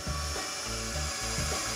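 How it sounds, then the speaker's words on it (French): Hole drilled into wood with a power drill and wood bit, a loud continuous whirring grind with rhythmic pulsing as the bit bites into the wood, heard close up with no speech. "On voit qu'elle fait un trou à la perceuse en fait directement."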